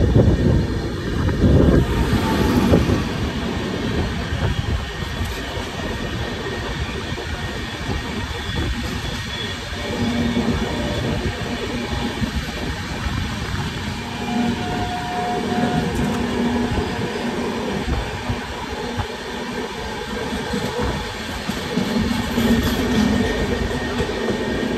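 The 12703 Jan Shatabdi Express runs between Jakhapura and Cuttack junctions on its Howrah to Bhubaneswar route, heard from on board as a continuous loud rumble and rattle of wheels and coaches, with no voices.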